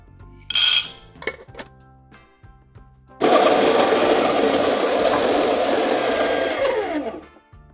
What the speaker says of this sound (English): I'm using my Baratza Encore here.